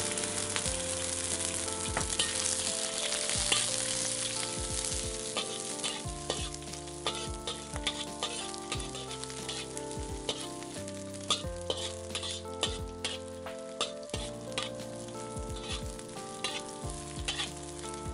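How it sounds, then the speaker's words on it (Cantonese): Dried shrimp fry in a little hot oil in a wok, a loud, continuous close sizzle with frequent scraping and clattering stirring strokes throughout. "落少少油喺隻鑊度，等啲油熱咗之後加入蝦米"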